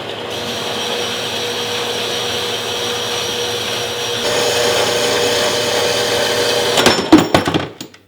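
A metal-cutting bandsaw runs through a thick piece of metal as a steady, loud mechanical whir, its pitch shifting partway through, then clunks and rattles as the cut finishes and the machine shuts itself off.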